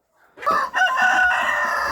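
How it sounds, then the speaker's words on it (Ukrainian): Hungry hens crowd and cluck loudly close by, a rooster-like crowing call rising over a dense, continuous flock chatter. "Подивіться на цих самошечих курей."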